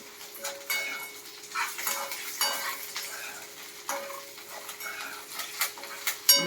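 Green chillies fry in oil in a pan for mango pulihora, giving a steady close sizzle broken by repeated scraping and clinking of a spoon as they are stirred.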